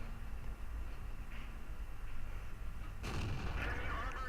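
A single booming tank gun shot from a Jagdtiger 88 in the World of Tanks video game, a sudden loud blast about three seconds in after a low steady engine rumble, followed by a short ringing decay.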